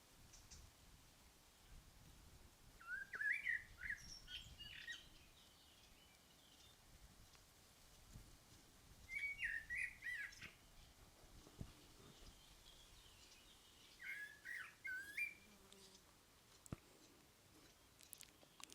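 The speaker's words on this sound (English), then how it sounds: "No, I hear the birds sing." Birds singing outdoors in nature, three short chirping phrases spaced several seconds apart and fairly faint, over a steady rustle and soft crunching close by.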